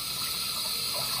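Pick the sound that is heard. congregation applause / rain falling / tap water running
tap water running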